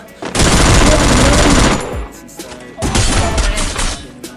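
Automatic gunfire rattles in the Free Fire video game in two loud, close bursts, a long volley followed by a shorter one after a brief lull.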